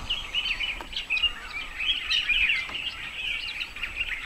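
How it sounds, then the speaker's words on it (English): A dense chorus of high, chattering helmeted guinea fowl calls, continuous and moderately distant, with no voices. "hopefully you're hearing all the other birds calling"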